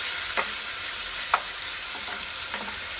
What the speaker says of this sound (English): I'm using a big pan because I want the surface area. I'll flip these over and let them cook a little bit more.